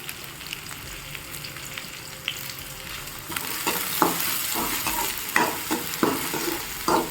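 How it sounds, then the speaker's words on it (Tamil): Green chili and curry leaves fry in a pan for egg rice, a steady close sizzle that grows louder partway through, with scraping stirs and spatula knocks repeating over it. "தென் இந்த டைமில் வந்து நம்ம கருவேப்பிலை ஆட் பண்ணிக்கலாம்."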